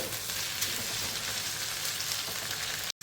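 Okra pieces frying in a pan for a dry stir-fry, giving a dense, continuous close-up sizzle that runs unbroken until a brief cut near the end.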